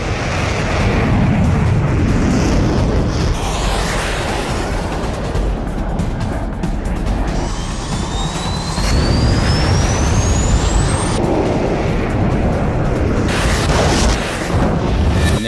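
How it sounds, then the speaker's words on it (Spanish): Heavy explosion and roaring rumble as a Sidewinder missile strikes an A4Q aircraft over the Malvinas, loud and sustained with a rising whistling tone overhead, no talk. "En ese momento escucho una explosión muy fuerte."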